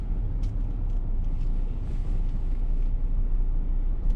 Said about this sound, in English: we've got the speed bump here, so let's drive over this